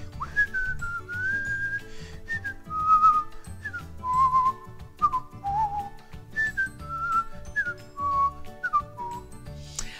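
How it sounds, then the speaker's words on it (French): A person whistles a slow, wandering melody of sustained notes over quiet background music, with the tune stepping up and down in short phrases. "moi, je vais siffler."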